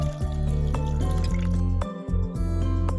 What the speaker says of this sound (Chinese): 把牛奶倒入蛋黄糊中